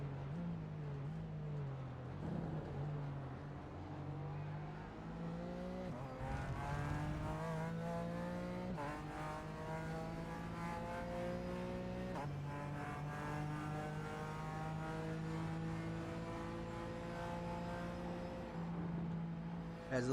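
Simulated race car engines roar continuously on the Homestead road course in a racing video game, with BMW GT cars among the field, layered engine notes rising and shifting through gears, steady and loud throughout with no talk.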